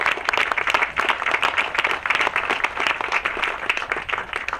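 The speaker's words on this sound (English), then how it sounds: "So a round of applause for John" An audience at a groundbreaking ceremony for Hudson Headwaters gives John a burst of applause: dense, steady clapping from many hands, close and loud, with no voices over it.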